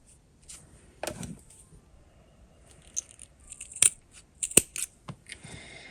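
Scissors cut a fabric strap in half for a two-tone crossbody bag during sewing, giving a few sharp, close snips and light rattling clicks in an otherwise quiet room.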